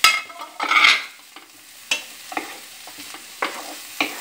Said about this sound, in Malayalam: ഇതിലേക്ക് അരിഞ്ഞു വെച്ചിരിക്കുന്ന തക്കാളിയും കൂടി ചേർക്കുക